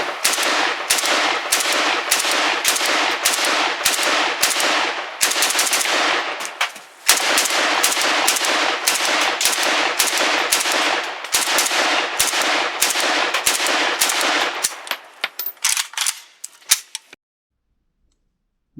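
Rapid bursts of gunfire from a Hungarian FEG AK-55 rifle, loud and close, in long fast strings with brief gaps that end in a few scattered shots and silence.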